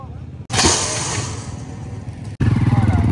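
Motorcycle engines rumble and rev nearby in Italy as mechanics bring race bikes for technical inspection, a loud burst starting abruptly, briefly cutting out, then returning with a throbbing idle.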